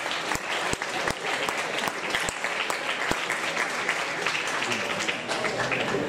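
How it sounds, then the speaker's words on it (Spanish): Steady applause from a crowd at an engineering students' competition presentation fills the space, dense clapping with a few sharper individual claps standing out. "Un aplauso para ellos,"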